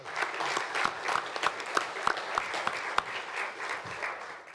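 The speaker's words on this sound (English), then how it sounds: "I want you guys to give them a round of applause" An audience at a police department awards ceremony applauds the officers, with moderately loud, fairly brief clapping and a few sharper individual claps standing out in the texture.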